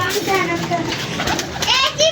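Pigeons coo nearby in soft, repeated warbling calls, mixed with children's voices and a person talking over them.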